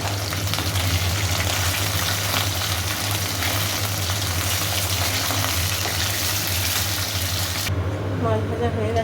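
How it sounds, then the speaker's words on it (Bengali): Fish fries in a pan in a home kitchen, giving a continuous dense sizzle with a low steady hum beneath, lasting several seconds before the hiss drops away near the end, where faint chirpy sounds remain. "তো চলুন এবার আমি আমার মাছটা ভাজি। মাছ ভাজতে দিয়ে দিয়েছি।"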